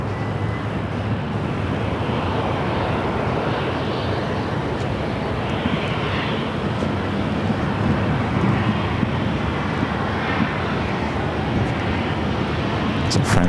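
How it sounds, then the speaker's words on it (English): United Airlines Boeing 737-900ER arriving at Phoenix Sky Harbor from Newark, a sustained loud jet engine rumble and whine filling the whole stretch, close by and unbroken. "Next arrival is United Airlines flight 1847 coming in from Newark, a"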